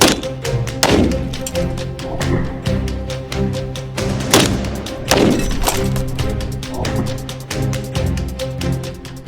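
Heavy repeated impacts from CZ BREN 2 rifle shots thud against a solid armor plate, several loud hits over a constant mechanical drone, with sharp broadband bursts standing out among steadier knocks.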